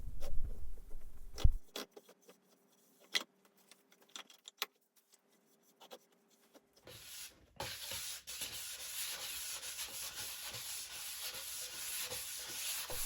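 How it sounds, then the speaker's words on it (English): After a few scattered clicks and quiet, steady rhythmic rubbing of fine sanding begins and continues close by, a soft scratchy swish of a fine sanding pad hand-sanding cured resin on a reclaimed pitch pine cheeseboard. "I took a sanding pad, very fine sanding pad, and just gave it a little rub down"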